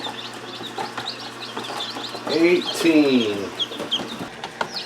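Newly hatched chicks in an incubator peep and chirp in a busy, overlapping chorus nearby, under a person's speech counting them, with a louder burst of calls midway.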